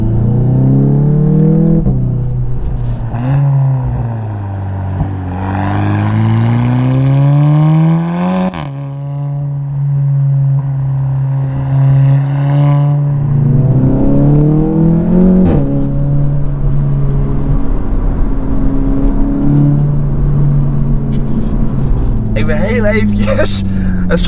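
A Volkswagen Golf GTI Clubsport tuned to 470 hp, accelerating hard with its engine note rising and falling through the gears. The sound is a loud, close droning rumble heard from inside the car, with people talking over it.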